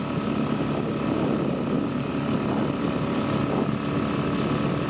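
A 6 hp Tohatsu outboard motor drives a boat with a steady, loud, continuous drone and buzzing hum, unbroken throughout with no talk.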